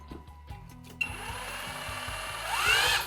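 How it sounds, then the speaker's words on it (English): A Parkside 20V hammer drill, model PKHAP 20-Li C4, spins up on battery power with no workpiece, a short whirring motor burst rising in pitch after a few clicks, close and fairly quiet. "let's put a battery in it and see if it spins"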